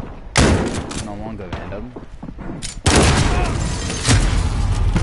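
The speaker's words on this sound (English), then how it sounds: "Do they only equip you with a shotgun now?" Loud booming shotgun blasts go off in Call of Duty Modern Warfare's Infection mode, a few heavy reports spaced apart with a player speaking briefly between them.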